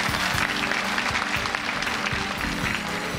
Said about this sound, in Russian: Аплодирует своей дочери мама Галина Васильевна